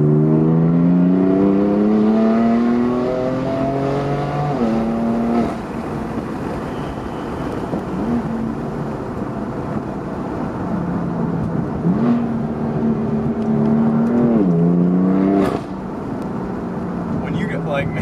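A Ferrari F8 with a secondary cat delete exhaust pulls away on a drive, its engine tone rising through repeated revs and gear changes, heard from inside the car with a voice talking over it.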